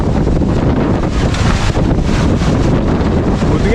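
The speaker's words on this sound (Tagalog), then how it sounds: "Buti nga hindi ganun sobrang kalakas yung hangin eh." Wind in the aftermath of a typhoon roars steadily and loudly, buffeting the microphone in a dense, unbroken rush with no pauses.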